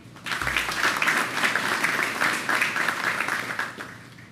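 A crowd at a street renaming ceremony for a firefighter applauding steadily for several seconds, a dense continuous clatter of many hands with no voices over it.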